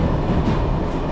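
Steady rumble and rattle inside a Bulgarian passenger train carriage heading to Sofia, a continuous loud low roar of rolling stock with no voices.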